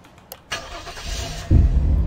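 Fire tanker truck engine in the Flashing Lights video game starts up with a rising mechanical whir, then settles into a steady low rumble that suddenly deepens and grows louder as it revs, close and unaccompanied by speech.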